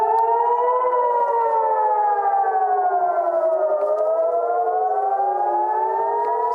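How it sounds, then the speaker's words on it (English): Civil defense air raid sirens wail in Jerusalem, loud and continuous, with several overlapping tones slowly rising and falling against one another and no talking. "Ali, sirens sounding in Jerusalem"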